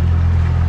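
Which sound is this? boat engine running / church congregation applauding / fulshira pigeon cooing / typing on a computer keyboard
boat engine running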